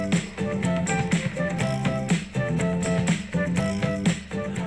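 Music with a full band and vocals plays continuously from a Pure Evoke Flow wifi radio's small speaker, mellow and slightly muffled, with no talking.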